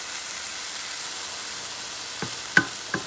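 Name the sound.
cauliflower rice frying in a pan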